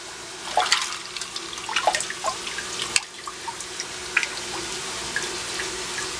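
Water from a drained fish tank gurgles and splashes close by, with irregular drips and trickles over a steady watery hiss, and no voices.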